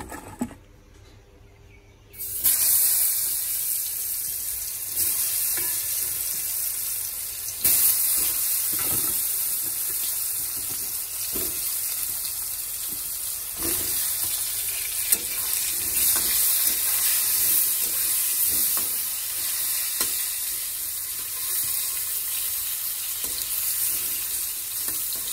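Pointed gourd coated in salt and turmeric fries in smoking hot oil, a loud continuous sizzling hiss that starts abruptly after a quiet moment, with occasional clinks and stirring, close and steady throughout.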